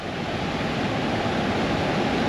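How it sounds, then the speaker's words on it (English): Rushing water from a small orange-tinted mountain stream along the Great Divide, a dense steady broadband hiss and roar, close and constant with no voices. "We're hearing the sound of water."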